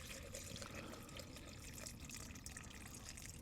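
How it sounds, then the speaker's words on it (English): Water running steadily into a food bag at a solo wild camp, a constant faint hissing trickle with no break and no talking. "So I've put water in basically up to the top of the bag"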